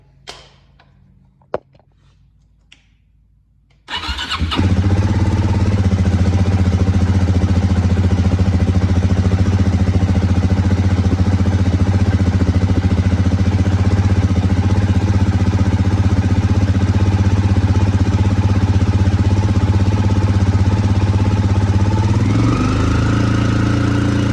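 A Suzuki DRZ400 motorcycle engine is started after a few faint clicks and settles into a loud, steady single-cylinder idle that runs on alone to the end, with a slight shift in pitch near the finish.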